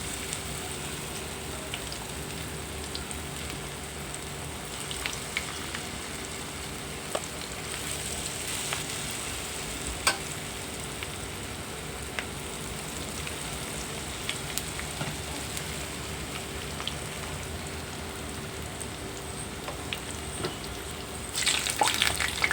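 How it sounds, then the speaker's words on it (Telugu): Cauliflower 65 (gobi 65) pieces fry steadily in hot oil, a continuous soft crackling sizzle with occasional pops, moderately close and without speech. "ఒక 5 నిమిషాలు బాగా ఆయిల్లో వేగాక అప్పుడు మనం కలుపుకోవాలి."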